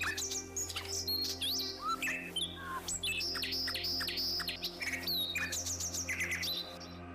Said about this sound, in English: There's some loud birds.